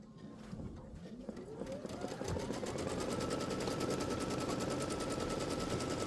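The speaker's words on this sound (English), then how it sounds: "I'm going to stitch that out again" Embroidery sewing machine stitching a placement outline for quilt batting, starting up and settling into a rapid, even mechanical chatter that stays loud and close; a brief voice is heard near the start.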